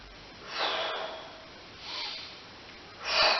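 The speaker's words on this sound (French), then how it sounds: "je peux aussi choisir de respirer avec mon thorax" Three forced chest breaths, each a loud, airy rush of air, spaced about a second apart in a quiet room, with the last one strongest.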